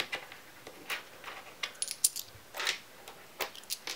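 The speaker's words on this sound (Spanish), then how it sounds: "en esta hucha de aquí voy a meter todas las monedas de 2 euros" Two-euro coins drop one after another into a piggy bank, giving a series of sharp metallic clinks and jingles at an uneven rhythm, close and fairly quiet.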